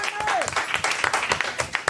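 Scattered clapping from a comedy club audience at an improv storytelling game show, uneven and moderately loud, with voices talking over it.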